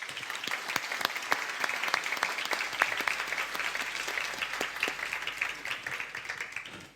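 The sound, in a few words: audience applause for a panel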